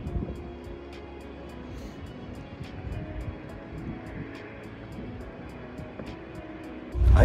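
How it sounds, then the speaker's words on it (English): Steady airliner cabin drone from a jet flight into Chicago, a constant low engine roar and broadband hiss with no talk, ending in a brief louder thump. "now I am flying back into Chicago"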